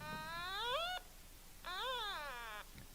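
A person in a convention audience imitating a cat with two long, wavering meows, the second rising and falling, fairly clear against a quiet room.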